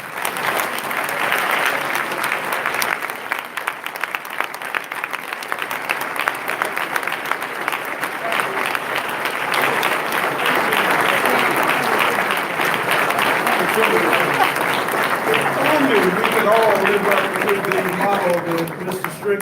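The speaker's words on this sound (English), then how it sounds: "Another round of applause for him and all of our honorees tonight." A crowd at an evening awards gala honoring men of excellence keeps up sustained, full applause for a long stretch, with voices surfacing beneath the clapping toward the end.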